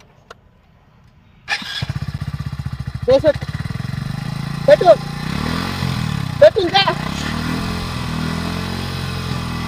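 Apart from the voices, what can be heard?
motorcycle engine starting and revving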